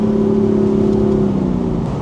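A 2018 BMW M4 engine revs near the top of its range, a loud, steady, strained whine heard up close from inside the car that holds its pitch and then eases slightly.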